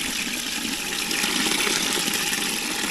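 Water pours onto plants in a backyard farm in Kingston during a dry spell without rain, a steady, close, continuous rushing splash with no one talking.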